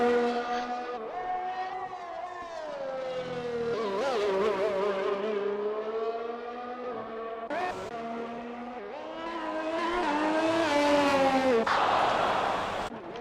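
A Formula 1 race car on a hot lap around the Hungary circuit in F1 2021, its high-pitched engine whine rising and falling through gear changes and corners, with a sharp tonal sweep near the end, steady and prominent throughout.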